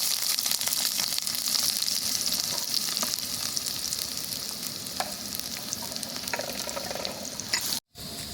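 Chopped onions and green chillies frying in hot oil with fennel seeds in a clay pot, a steady close sizzle with occasional stirring scrapes and pops, briefly cut at the end.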